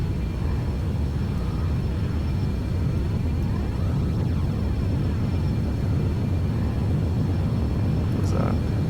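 Simulated airliner engines spool up in X-Plane 11, a steady broadband roar with a faint whine holding throughout, while a voice talks over it.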